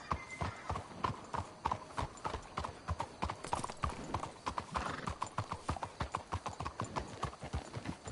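Steady clip-clop of horse hooves trotting at a brisk, regular rhythm in the video game Red Dead Redemption 2, fairly close, with an occasional whinny and no talking.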